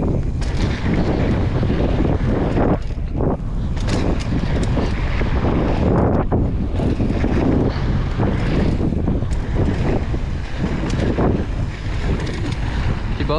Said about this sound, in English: It's still pretty windy